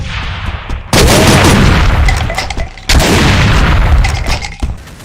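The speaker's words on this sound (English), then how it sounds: "he can fire grenades, or do his rapid-fire shotgun shots" A Commando enemy in a Doom mod firing grenades and rapid shotgun blasts: two heavy, booming bursts that each cut in sharply and roll on with crackling, dense gunfire, loud and close with no talking.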